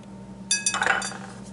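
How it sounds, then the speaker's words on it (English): A utensil stirring strawberry rhubarb pie filling in a bowl, giving a short cluster of bright clinks and scrapes against the bowl over a quiet kitchen hum. "We'll mix this all together and make sure that it's all coated good"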